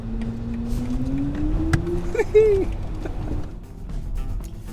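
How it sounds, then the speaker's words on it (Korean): A BMW iX xDrive50 electric car's synthetic driving sound, heard from inside the cabin: a steady electronic tone glides slowly upward, then swells briefly during braking over a soft road hum. "브레이크를 밟으면 브레이크 밟을 때 다시 볼륨이 커지는 사운드가 있어요"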